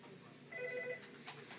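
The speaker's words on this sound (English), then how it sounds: "Have you ever been working at your desk only to receive a phone call?" At an office desk, a telephone gives a short, faint electronic ring of a few brief tones, followed by light clicks in a quiet room.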